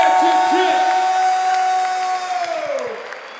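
Crowd cheering and applause for Colombia at a Colombia vs Puerto Rico rap battle, with loud sustained yells and whoops over clapping that slowly taper off.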